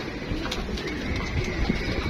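A wounded pigeon, just caught by a hawk, coos softly a few times close by, low throaty calls over a steady background hiss.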